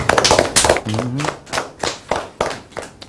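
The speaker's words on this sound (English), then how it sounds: "A round of applause to her." Brief applause from a small audience at a school talk event, with a few scattered, uneven hand claps close by and a voice briefly heard among them.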